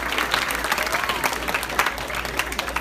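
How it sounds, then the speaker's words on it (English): Guests at a black-tie dinner applaud themselves in a short burst of crowded clapping, close and lively, lasting about three seconds with no voices over it. "Get a round of applause to yourselves."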